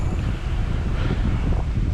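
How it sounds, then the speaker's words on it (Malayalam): Strong wind roars steadily through a snowstorm in Halmstad, Sweden, buffeting the microphone with loud, continuous low rumble and gusty noise and no speech. "ഭയങ്കരമായിട്ട് കാറ്റടിക്കുന്നുണ്ട്."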